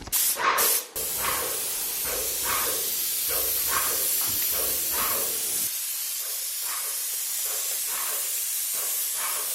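Steady hiss of spray painting, running in a series of short bursts at first and then holding as a continuous close spray.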